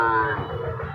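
A young bull calf at the Joypurhat cattle market gives a single loud, close moo that fills the whole short moment.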